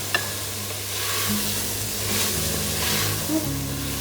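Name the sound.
cut vegetables added and frying in pot for veg biryani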